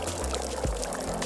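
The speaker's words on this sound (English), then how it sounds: "So we'll just pour all of this out." Water poured out onto a tree inside a shop in the video game Wanderstop, a short steady splashing pour heard alone.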